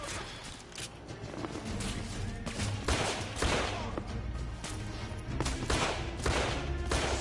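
Repeated gunfire from the video game The Order: 1886, dense bursts of shots cracking loudly over a rumbling, busy battle backdrop with no pauses.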